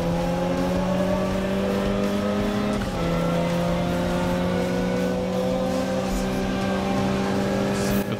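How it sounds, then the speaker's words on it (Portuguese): A Mitsubishi Lancer races in a modded Need for Speed Underground 3 video game, its engine holding a loud, sustained tonal whine that dips briefly as it shifts gear and then keeps climbing. "Eu tô com a impressão que eu tô ouvindo o som do câmbio da M3 GTR."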